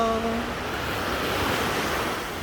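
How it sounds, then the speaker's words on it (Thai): Sea waves wash steadily onto the beach at Hua Hin, a continuous broad roar of surf with some wind, loud and even throughout with no talking. "เรามาดูนะครับ ดูน้ำทะเล"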